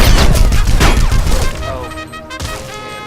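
Shotgun blasts in the video game Battlefield Heroes, several loud close booms fired in quick succession with crashing impacts, then quieter echoing game noise before one more blast.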